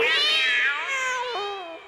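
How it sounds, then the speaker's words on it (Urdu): A cat meows in a children's cartoon nursery rhyme, one long, loud, clear meow that bends in pitch and fades toward the end, heard with no talk. "بلی بولی کیا میاؤں"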